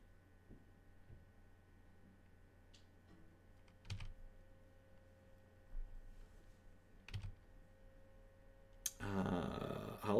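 A cheap $10 computer keyboard clatters with fast, steady typing in irregular bursts, fairly close, over a low background hum before a louder rush of noise at the end.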